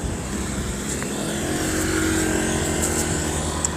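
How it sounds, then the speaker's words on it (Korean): Cars pass steadily on a road, a continuous traffic rumble and whoosh heard from the roadside, fairly loud with no gaps. "아직까지 차가 오네요."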